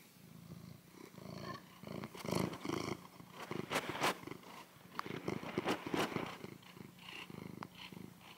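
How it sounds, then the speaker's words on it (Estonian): A domestic cat curled in a blanket nest purrs continuously up close in a soft, rhythmic rumble of in-and-out breaths, with light rustling and no speech. "Kuulaks seda nurru."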